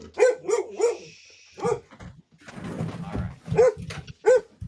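A puppy, about four months old, barks in short sharp yips, several in quick succession at the start and a couple more near the end, close by, with indoor rustling and some faint talk in between.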